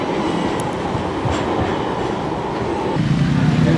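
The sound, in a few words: tram passing on a street in Istanbul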